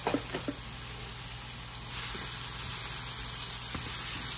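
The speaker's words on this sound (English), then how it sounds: "got those peppers cooking in there pretty good" Bell peppers stir-frying on a George Foreman grill over high heat, giving a steady broadband sizzle with a few sharp clicks near the start and a louder, denser stretch later on, and no voices.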